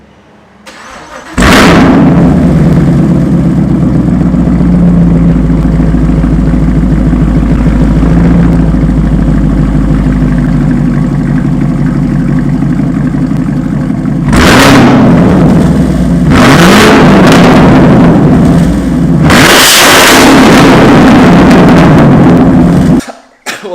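A Chevrolet Camaro engine starts and revs loudly in a garage, a sustained deep roar broken by several sharp throttle blips toward the end, close and very loud with no talk.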